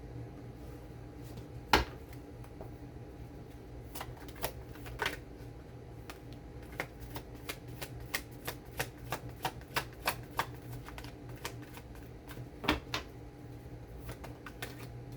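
Tarot cards being shuffled for a reading: soft irregular riffling and sharp card snaps and taps against a low steady room hum, close and quiet, with no speech.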